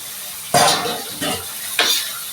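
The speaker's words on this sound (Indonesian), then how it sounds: "masukin daun salam, daun jeruk, sama ayamnya. Semuanya kita tumis dulu ya." Chicken sautés in a pan with bay leaves and lime leaves for an Indonesian gulai. A steady sizzle is broken by three sharp scraping stir strokes, close up and with no speech.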